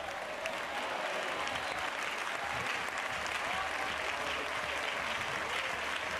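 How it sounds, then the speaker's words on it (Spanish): A congregation at a church service applauds, with dense, steady clapping sustained at an even level from start to finish and no pauses. "Si ese aplauso es para Él"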